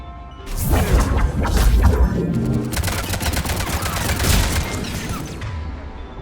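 Rapid turret gunfire in the video game Mass Effect 3, a dense burst of crackling shots and crashing impacts that runs loud and continuous for several seconds before tapering off.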